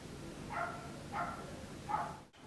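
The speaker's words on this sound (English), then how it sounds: "Sorry about the barking dog this time." A dog barks three times at a steady interval, faint and distant indoors, over a constant background hum.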